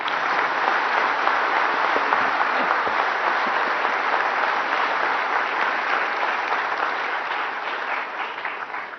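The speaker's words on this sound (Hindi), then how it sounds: "बच्चों के लिए तो थोड़ा ताली हो जाए" An audience at a national energy conservation award ceremony applauds the children, steady dense clapping sustained for several seconds and fading slightly toward the end.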